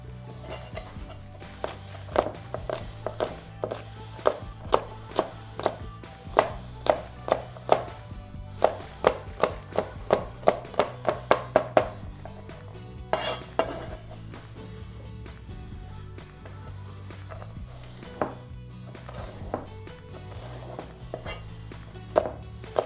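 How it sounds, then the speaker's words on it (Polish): A knife chops red bell pepper into cubes on a cutting board, with rapid bursts of crisp taps broken by short pauses, close and clear with no talking. "pokroję czerwoną paprykę"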